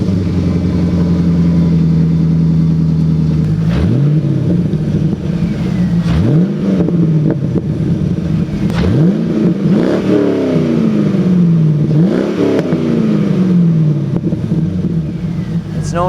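An all-aluminum 5.7 liter LS1 V8 in a C5 Corvette idles with a loud, steady rumble, then is revved repeatedly in sharp blips that rise and fall, close up.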